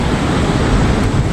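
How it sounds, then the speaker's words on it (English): Roaring water at Tully Falls, where many waterfalls pour down together, gives a loud, dense, steady rush that fills the whole moment without letup. Wind buffets the microphone throughout. "just countless numbers of waterfalls here"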